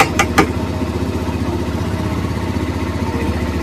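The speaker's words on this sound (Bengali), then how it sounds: "এই যে গাইজ আমার সুপার বাইক এখন ফুল স্টার্ট হচ্ছে" A super bike's engine runs at a steady idle with a deep, even rumble, close by and continuous, after a couple of sharp clicks at the very start.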